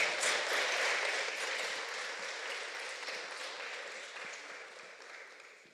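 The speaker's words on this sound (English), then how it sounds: "Let's give her a round of applause, please." Conference audience at a community programs event applauding, a soft, fairly distant wash of clapping that fades gradually over several seconds.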